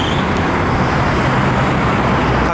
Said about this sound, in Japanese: カイロタワーですごい交通量。